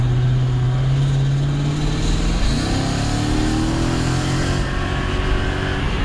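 A Mercedes E55 AMG wagon engine revs steadily under load, its pitch climbing once before holding high and abruptly cutting out near 5,000 RPM, loud and close with no talk.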